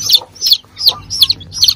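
A native mother hen with newly hatched chicks clucks close by, five evenly spaced soft clucks in a steady rhythm over quiet background.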